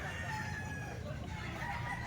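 Roosters and chickens at a seller's stall crow and cluck faintly in the background, under a continuous noisy outdoor din.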